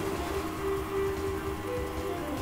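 Hail weather effect from the Pokemon Battle Revolution video game: a steady, soft pattering like rain on a surface, with a faint tonal hum beneath, lasting a couple of seconds.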